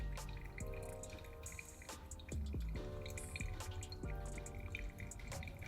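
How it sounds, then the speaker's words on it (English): Hot water runs and drips through a freshly rinsed paper filter in a Hario V60 Suiren dripper into the decanter below, a quiet trickle with small distinct drips and splashes, close up. "we're just going to be rinsing this paper filter to remove any of that papery taste, as well as warming up the decanter down below."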